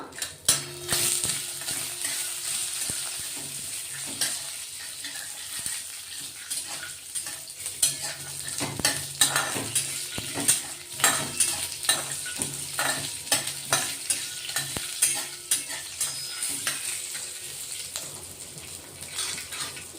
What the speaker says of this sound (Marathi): काजू चांगले तुपावर परतून घेऊ आपण आता चार पाच कढीपत्त्याची पानं